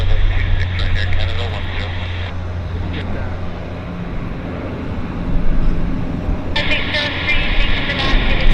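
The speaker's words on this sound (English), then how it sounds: "That was a nice takeoff." An airplane takes off at Vancouver airport, heard as a loud, sustained jet roar with a rising whine at the start and end, while people talk over it.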